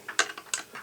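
A ratchet wrench turning while a pyrometer is taken apart, with a handful of quick, close clicking ticks in an uneven rhythm, quiet and heard on its own.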